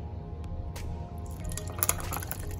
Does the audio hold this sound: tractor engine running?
no